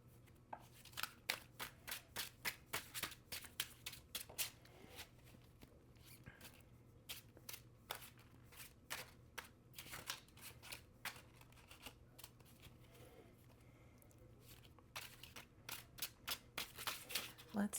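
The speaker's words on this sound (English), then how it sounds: "One thing about these cards, they sound really cool when you're shuffling them" Tarot cards are shuffled close up, giving quick bursts of crisp riffling and snapping clicks in irregular clusters, fairly quiet, with a low steady hum underneath.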